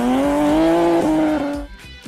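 A Bugatti Veyron supercar engine roars loud and close with a steady high-revving tone and tire squeal, holding for about a second and a half before cutting off abruptly into quiet.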